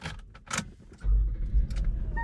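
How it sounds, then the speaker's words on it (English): A car with a cylinder 2 misfire, check engine and VSC warning lights on, idles roughly with a low uneven rumble close by, following a few light clinks and rustles. "car running rough, and what we got here is p0302, which says cylinder 2 misfire detected"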